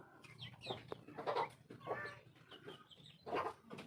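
Brahma chickens and chicks clucking softly at close range, a series of short clucks and peeps in an irregular rhythm, fairly quiet and with no talking.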